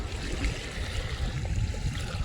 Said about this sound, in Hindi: सुबह के इस वातावरण में, इन नज़ारों के साथ और इस पानी की अपनी मीठी आवाज़ के साथ बैठना